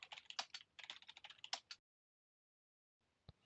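Quick, close keystrokes on a computer keyboard as a password is typed, a rapid burst of clicks lasting under two seconds, then silence and one final key press.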